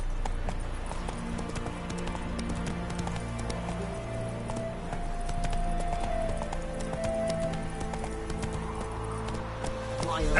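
Roach, a horse in The Witcher 3, gallops with steady clip-clopping hooves under a game soundtrack and ambience, while a voice talks over part of it.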